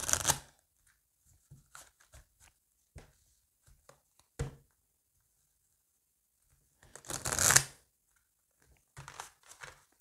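Oracle cards are shuffled and laid down in intermittent bursts of papery rustling and slapping, with long quiet gaps between them and one longer shuffle near the end.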